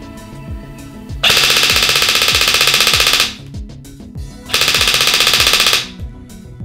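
A Firehawk airsoft gun firing full auto through a chronograph at about 15 shots per second, two long rattling bursts of roughly two seconds each, loud and close with quiet clicks between.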